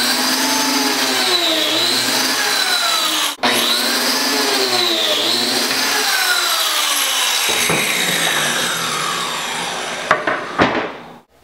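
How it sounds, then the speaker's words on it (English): A biscuit joiner cuts biscuit slots into a wooden drawer-front joint. Its motor whines loudly and steadily, with brief dips as the blade plunges in. Near the end it spins down with a few knocks, and no one speaks. "And I want to cut these biscuit joints with the labeled face"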